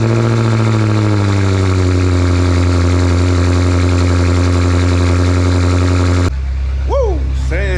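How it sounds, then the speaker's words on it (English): A BMW F13 M6 fires up from cold, its engine settling into a loud, steady, rumbling high idle close by; the tone shifts abruptly near the end as a voice speaks over it. "I'm gonna give y'all a little cold start before we get into this video."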